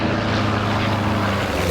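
A P-47 fighter plane's propeller engine drones steadily in a flight game, a loud, continuous close-up roar with no breaks.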